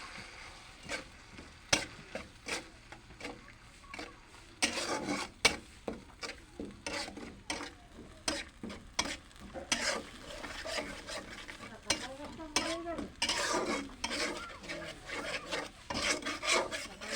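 Whole spices fry in hot oil and are stirred without pause, making a loud, close, continuous sizzle with dense rasping scrapes of the spoon against the pan.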